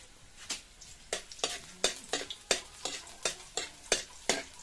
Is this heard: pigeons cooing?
no